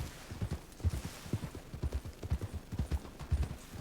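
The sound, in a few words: horse hooves clip-clopping while riding, in a video game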